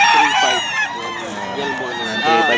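Fighting roosters at a breeder's yard in Bocaue crow and cluck in overlapping calls, close and loud, with human speech mixed in.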